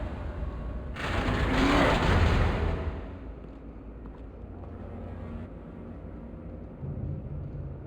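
An explosion in the Batman Telltale video game bursts in as a loud broad roaring blast after about a second, rumbling for roughly two seconds before settling into a lower lingering crackle and hiss, with no speech.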